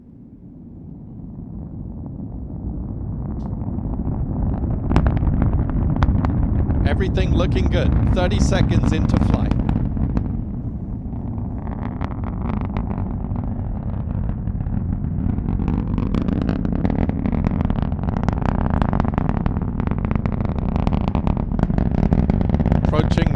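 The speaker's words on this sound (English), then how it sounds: "We'll soon start to hear the rumble of the Falcon 9's 9 Merlin engines." Deep, continuous roar of a SpaceX Falcon 9 rocket's nine Merlin engines climbing after liftoff on a Starlink launch, swelling from a low rumble into a loud, crackling wall of sound that persists throughout, with a voice making flight callouts over it.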